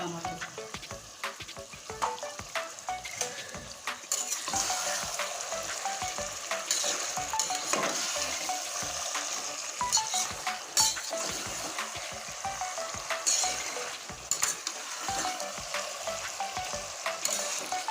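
Chicken curry with tomatoes frying in a pan, a steady close sizzle with frequent scraping and clinking of a spoon as it is stirred throughout.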